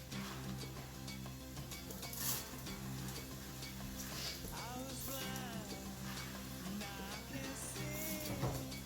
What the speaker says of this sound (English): we want the pan to be hot because we sort of want to zap the rice to get rid of some of that chalkiness